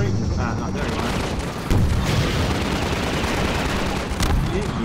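Dense, continuous gunfire and booming explosions from the shooter game Half-Life 2 Episode One, loud and sustained throughout with heavy low rumble, mixed with game speech.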